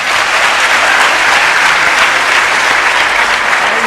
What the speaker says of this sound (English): I think he deserves the applause once more.